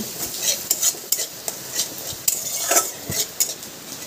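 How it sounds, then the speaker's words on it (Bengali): A spatula stirring cumin, ginger and green chilli paste with turmeric powder in a pan, quick close scrapes and metallic taps against the pan over a faint sizzle; no talk. "এবার একটু নাড়াচাড়া আমি করে নিচ্ছি।"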